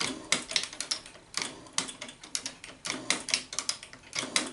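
A shop-built hand shaper cuts aluminum, producing a steady run of rhythmic metallic clicks and scraping strokes, close and moderately loud, repeating in quick cycles with no voices.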